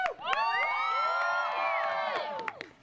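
A group of children cheering and whooping together, loud and sustained for nearly three seconds with high overlapping shouts, then fading at the end.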